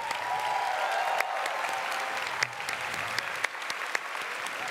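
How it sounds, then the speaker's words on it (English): A large audience at QuakeCon applauds the event volunteers, sustained dense clapping throughout with a few sharper claps standing out, no voices on top. "So, one more time, a round of applause for the volunteers."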